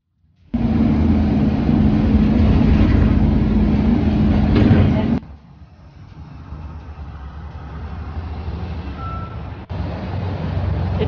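Inside a moving bus, a loud steady engine drone with road rumble fills the first half, then drops to a quieter idling hum with faint rattles, as if the bus slows or stops.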